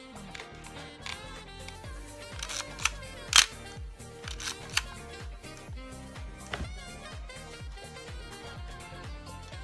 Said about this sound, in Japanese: あ、これもシャッター切れてますね。